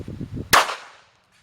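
Seecamp .380 pistol firing a Hornady Custom XTP round into clear gel: one sharp, loud close shot with a short decaying ring, after faint low handling noise.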